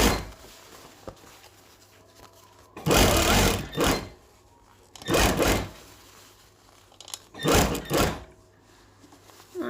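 Sewing machine stitching through layered fabric in three short loud bursts, each lasting about a second, separated by quieter pauses with faint handling noises.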